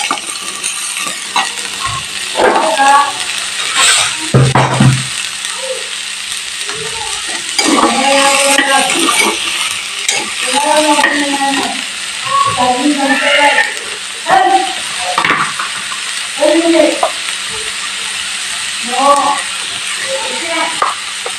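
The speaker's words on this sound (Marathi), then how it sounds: "आता कांदा छान भाजून घ्यायचा आहे" Chopped onion sizzles in a pan on a home stove, with a steady hiss and occasional scraping stirs running under a voice as she talks throughout.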